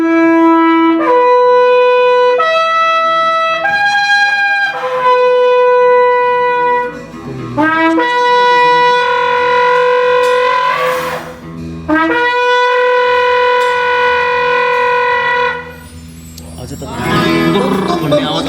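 A shofar blown to imitate an elephant, with long brassy horn blasts that bend upward and break into rough, trumpeting cries, loud and close, separated by brief pauses.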